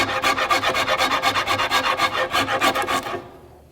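A rasp filing a wooden bow in quick, even back-and-forth strokes, about fifteen rhythmic rasping pulses, close and loud, stopping abruptly near the end with no voices.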